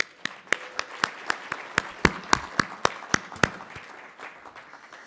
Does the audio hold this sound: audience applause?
yes